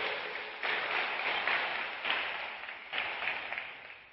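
A church congregation applauds in a reverberant hall, the clapping coming in several swelling bursts that fade gradually, moderately distant with no speech over it.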